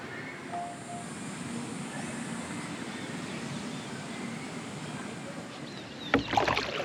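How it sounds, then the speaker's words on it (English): Quiet, slow canoe paddle strokes swish through calm water against a soft background hush, ending with a few louder splashes and knocks. "I'm already paddling back, but I did it extremely slowly"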